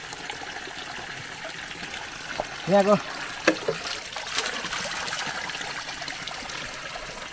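Water trickles and splashes steadily from a stone spout outdoors, a soft continuous flow heard beneath a man's speech and a few brief louder knocks.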